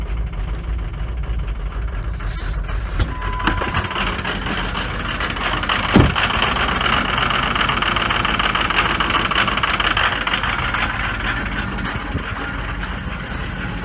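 A Ford F350 with a 6.0 Powerstroke diesel and newly installed injectors idles steadily for the whole stretch, a low rumbling clatter at close range with a brief sharp knock or clank around the middle.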